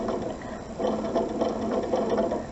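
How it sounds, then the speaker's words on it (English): A sewing machine stitching a quarter-inch seam on a quilt binding runs in a steady, fast mechanical whir that picks up after a brief slower start, close and alone. "And just start sewing."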